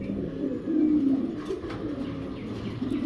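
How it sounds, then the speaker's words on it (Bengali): Potar pigeons, a large yellow-coloured pair, cooing in low repeated throaty calls, close and clear, with a few faint background chirps and no talking. "কবুতর, পোটার কবুতর"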